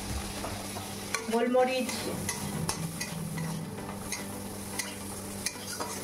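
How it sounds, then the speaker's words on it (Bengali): Chopped onion, garlic and green chilli fry in a pan with mustard seeds, a steady sizzle under repeated stirring scrapes, close and moderately loud. "এবার আমি ওর মধ্যে কেটে রাখা পেঁয়াজ, রসুন আর কাঁচা লঙ্কা দিয়ে একটু ভেজে নেব।"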